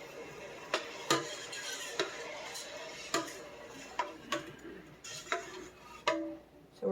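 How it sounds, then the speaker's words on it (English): A spoon stirs grape jelly with pectin and a tablespoon of butter in a pot, giving irregular light clinks and scrapes against the pot about every second over a soft background hiss. "So we're just going to stir this around, make sure the pectin gets worked in good."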